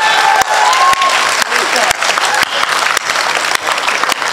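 An audience claps loudly and continuously, with a voice heard over the applause.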